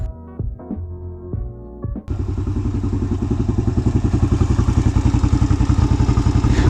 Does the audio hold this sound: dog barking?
no